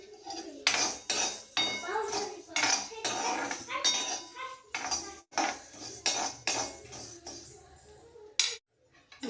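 Cumin and coriander seeds dry-roast in a pan while a metal spoon stirs them in a quick, steady rhythm of scrapes and clinks, close up and fairly busy, ending in a brief pause.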